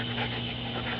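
A small dog pants rapidly and steadily, close up, a continuous breathy rhythm over a faint electrical hum.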